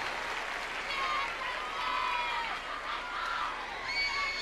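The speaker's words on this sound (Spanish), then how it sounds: "un gran aplauso también a esta cuerda maravillosa chilena que me está acompañando" Concert audience at the Viña del Mar festival applauding and cheering a Chilean string section, a distant, soft blend of clapping, whoops and crowd voices rolling steadily.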